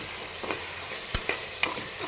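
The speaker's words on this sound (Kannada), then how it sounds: "ಸಾಲ್ಟು ಕೂಡ ಹಾಕಿ ಮಿಕ್ಸ್ ಮಾಡ್ತಾ ಇದ್ದೀನಿ ಇದಕ್ಕೆ" A spoon stirs salted cauliflower curry in a pan, with a soft sizzle running underneath and several sharp scrapes and clinks against the pan at irregular moments.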